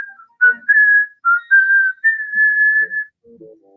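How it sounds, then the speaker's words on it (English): A woman whistles a clear, tuneful melody alone, a sequence of sustained and short notes that is fairly loud and close, with a few faint soft sounds near the end. "closed the door, and whistled on her way to bed"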